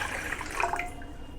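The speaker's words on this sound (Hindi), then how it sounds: "अब हम इस पतीले में डालेंगे आधा कप पानी" Half a cup of water is poured into a cooking pot for a snack, a brief close splashing pour that runs steadily for about a second and then tapers off, with no talk.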